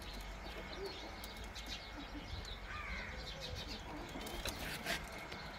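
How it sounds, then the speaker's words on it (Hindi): Pigeons kept in a loft coo softly amid a busy, noisy background of faint bird calls, with no clear speech. "ये भी कबूतर हैं सारे"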